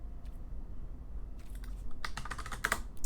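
Rapid clatter of typing on a computer keyboard, sparse clicks at first, then denser bursts of keystrokes toward the end, close and fairly quiet over a low steady hum, with no talking.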